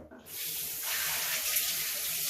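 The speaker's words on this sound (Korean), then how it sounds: "자 샤워기 물 틀어서" Water from a pulled-out shower head gushes into a bathroom washbasin while its pop-up drain trap is being cleaned and fixed. The hiss starts suddenly after a short pause, then runs loud and steady close by.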